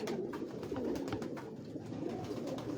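Aliphani pigeons with violet feet coo on a Lahore rooftop, giving a steady, low, rolling coo that continues throughout at moderate distance with no talking.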